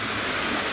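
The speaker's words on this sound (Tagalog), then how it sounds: "maririnig nyo po yung bagsak ng tubig" Steady broadband rush of a waterfall in the mountains, water pouring continuously without pause, a constant even wash of noise with no voices.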